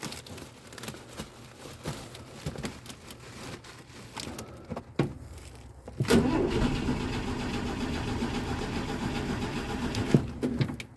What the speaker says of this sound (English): I think maybe I flooded the engine.